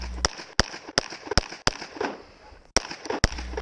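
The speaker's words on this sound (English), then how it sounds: "I shoot each target 3 to 4 times." Sharp handgun or rifle shots at a practical shooting match stage, about eight loud, crisp reports spaced irregularly in quick pairs and singles, with faint background noise between them.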